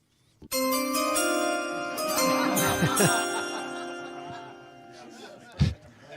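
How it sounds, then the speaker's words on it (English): Chime rung at a draft event: a single bright bell-like ring with a long shimmering decay lasting several seconds, loud and close, with a soft thump near the end. "Brett, hit the chime."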